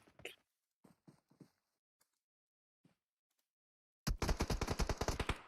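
Sparse, faint distant gunshots in PUBG Mobile, a few isolated pops in the first seconds, then a loud close automatic burst of rapid rhythmic shots near the end.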